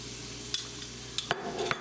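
A spoon stirs a flour roux around a pot roast pan to deglaze the bottom, making a few sparse, quiet scrapes and light clinks over a faint steady background.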